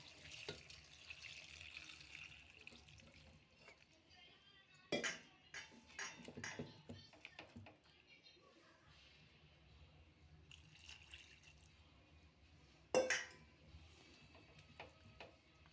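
Quiet kitchen sounds: water splashes briefly into a pot of dal with bottle gourd, tamarind and salt, followed by clinks of metal utensils and a sharp clatter near the end.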